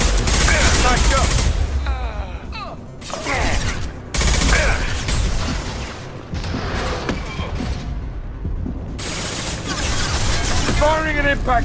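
Mass Effect 2 combat on PS4 with an impact shot fired, loud bursts of gunfire and explosions layered over dense game noise and shouted voices, continuous and close.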